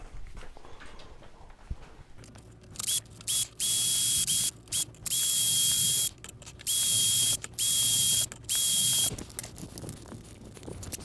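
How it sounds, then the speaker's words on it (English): A power drill bores holes through a side panel of a Pixelcade Pulse rec room arcade cabinet, in a series of loud whining bursts of a few seconds each with short gaps between them, close up and without talk. "let's drill holes."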